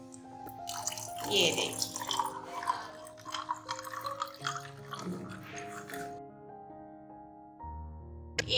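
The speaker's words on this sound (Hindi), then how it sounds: "अब मैं इसमें ऐड करने लगी हूँ पानी" Water is poured into homemade strawberry squash in a kitchen, splashing and trickling in bursts while someone speaks over it.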